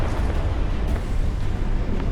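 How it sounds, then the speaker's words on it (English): Massive secondary explosion after a high-precision HIMARS rocket strikes a Solntsepek thermobaric rocket system, a loud, sustained rumbling roar with deep low-end power and crackling debris, continuous throughout without any voices. "A high-precision rocket lands right on the target and causes a massive secondary explosion."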